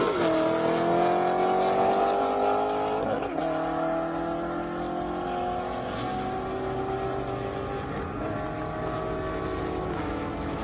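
Corvette Z06 and Lamborghini Huracan race side by side down an airstrip, loud engines roaring steadily with rising gear pulls and shift breaks, close and continuous throughout.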